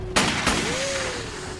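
Two sharp gunshots crack out in quick succession, ringing over a steady background hum with a brief rising tone, no voices.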